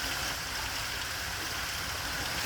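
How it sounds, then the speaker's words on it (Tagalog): Water flowing in a stream out in a remote forest, a steady broadband rushing and gurgling that stays even and close throughout, with no voices. "Agusan ng tubig ito"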